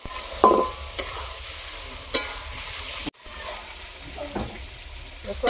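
Goat meat sizzles in hot oil as it is stir-fried kosha style, with a spatula scraping and stirring the pan in intermittent strokes over a steady close-up frying hiss.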